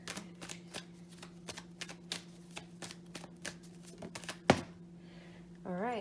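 Tarot cards being shuffled for a reading, a close series of crisp riffling flutters and snaps at an uneven pace over a faint steady hum, ending with one sharp slap and a brief pause.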